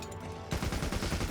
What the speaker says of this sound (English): which is the rapid fire mode of the heavy bowgun, obviously